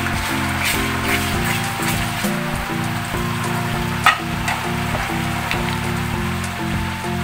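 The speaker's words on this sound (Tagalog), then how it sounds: "So haluin lang natin." Mixed seafood tossed in oyster sauce sizzles steadily in a hot pan, a loud continuous crackle with scraping stir strokes and a sharp clack near the middle.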